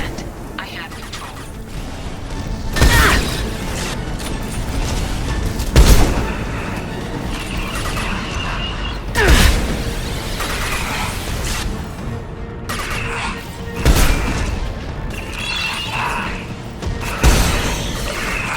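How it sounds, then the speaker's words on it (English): Anti-ship batteries in Mass Effect 2 firing at Collector vessels, loud heavy blasts recurring every few seconds over a constant rumbling battle din, with voices speaking in between. "Firing anti-ship batteries at collector vessels."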